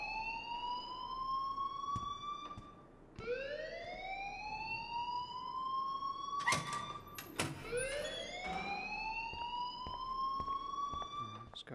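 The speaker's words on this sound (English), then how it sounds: "please turn off that alarm since that's your job." A school alarm in the video game Life is Strange gives long rising electronic wails, one after another, loud and alone. Several sharp clanks and knocks break in near the middle.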